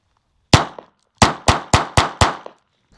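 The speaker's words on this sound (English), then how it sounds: "Let's go try the suppressed. M&P shield again. This is the 22, but subsonic" A suppressed M&P Shield pistol firing .22 subsonic rounds: one sharp, metallic crack, a pause, then five more in a quick, even rhythm, each close, loud and clean, with a short ring-out and silence between.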